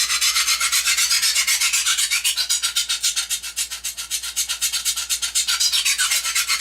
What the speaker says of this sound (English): All I'm doing is grinding off metal.